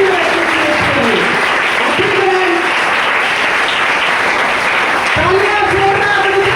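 Loud, dense applause rolls through a crowd at an empowerment training session and holds steady throughout, while a voice talks over it.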